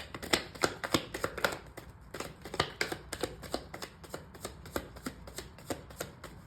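Tarot cards are shuffled by hand in a quick, steady run of crisp riffling snaps, close and fairly quiet, continuing without pause and with no voices.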